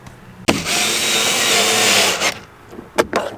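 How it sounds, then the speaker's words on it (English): A power driver runs in one continuous burst of nearly two seconds while tightening screws on a car door handle during an interior LED install in a Dodge Charger or Challenger, followed by a few short, sharp clicks. "all I'm gonna do is continue to tighten them up with my driver"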